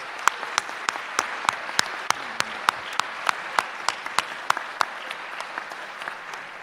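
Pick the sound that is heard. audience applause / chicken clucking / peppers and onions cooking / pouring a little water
audience applause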